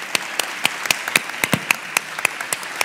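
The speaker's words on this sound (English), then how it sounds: "we should thank our panelists one last time and wrap things up for this afternoon. Yes, a round of applause." A conference panel session closes with sparse, evenly spaced handclaps from a small part of the audience, about a dozen crisp claps over a faint room hiss, with no voices.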